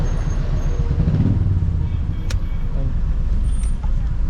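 Road traffic backed up on a narrow road in Ooty, with a low rumble of idling and passing vehicles, a brief hiss and faint clatter, and people talking nearby.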